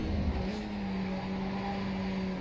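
A Skip Barber race car in iRacing at Circuit de Barcelona-Catalunya drops two gears into second under braking, its engine a steady, loud droning hum with a brief blip early on.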